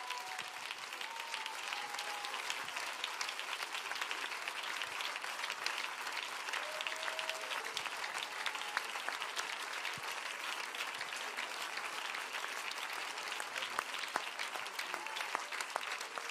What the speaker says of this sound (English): would you clap your hands right now with all of your might?